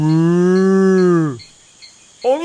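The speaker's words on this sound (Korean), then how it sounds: "아니 이놈의 소가 왜 이렇게 우니?" A single long cow moo, loud and near, swells and fades over about a second and a half, then a second moo begins after a short pause, set in a folk-tale radio drama.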